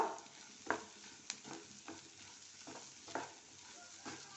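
Butter masala corn stirred with chat masala, spices and salt in a pan over a low flame: faint soft sizzling under a series of quiet spoon scrapes and taps, roughly one every half second, no voices.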